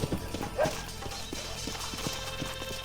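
Horses' hooves clip-clop at a walking pace in the Western video game Red Dead Redemption, heard fairly faint over a busy ambient game backdrop.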